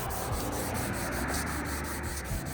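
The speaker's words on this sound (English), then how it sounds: "when you go to sand, try to make your movements directional rather than going in circles" A car headlight being wet-sanded by hand with 600 grit sandpaper, steady scratchy rubbing strokes in a continuous rhythm, close and quiet.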